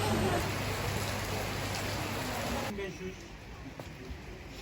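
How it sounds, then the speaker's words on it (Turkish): Heavy rain hisses loudly and continuously on a street in Izmir, then drops in level partway through, with a person talking underneath. "İnanılmaz bir yağmur var."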